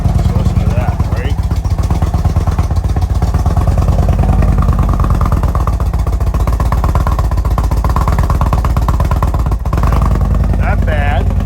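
An Indian Scout Bobber with a shorty muffler idles loud and close, its engine giving a steady rapid throaty thumping throughout, with a voice talking over it.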